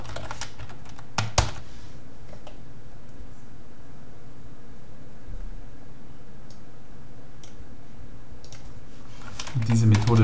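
Typing on a computer keyboard while writing C# code, soft clicks scattered through quiet room tone with a few sharper taps near the start and end.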